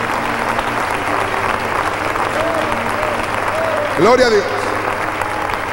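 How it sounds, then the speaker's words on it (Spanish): A church congregation applauds with a dense, sustained wash of clapping and a person calling out over it. "Dale un aplauso al Rey"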